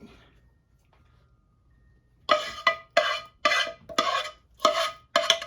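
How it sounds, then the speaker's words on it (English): A metal spoon scrapes and stirs thick Tennessee whiskey fudge in a pan, six firm rhythmic strokes close up after a quiet pause. "Let me get all the goodness out with this spoon."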